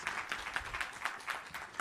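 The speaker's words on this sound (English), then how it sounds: "give this amazing team a big round of applause for what they're doing for you guys" Faint, steady clapping from a keynote audience applauding a team, with soft rhythmic claps repeating at an even pace throughout.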